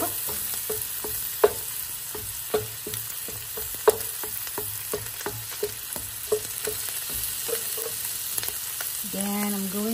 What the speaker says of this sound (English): So here's our garlic. So we're cooking the garlic.